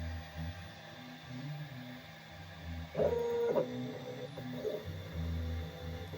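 A Daja DJ6 mini laser engraving machine runs steadily, its low motor hum and whine punctuated mid-way by short stepping chirps as the head moves, close and moderate in level with no talk.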